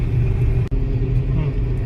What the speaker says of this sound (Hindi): जैसे अभी मेरी गाड़ी चल रही है 50 की स्पीड पे चल रही है और तीसरा गियर